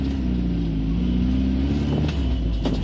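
A lowered car passes close behind with a loud, steady engine rumble and drone, broken near the end by a couple of brief scraping bursts.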